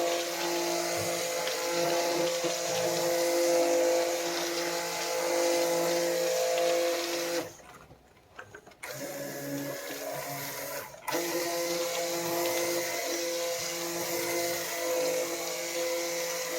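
A stick blender runs steadily in a pot of hot goat milk soap, giving a constant whirring hum that briefly drops out and then resumes, with no voices.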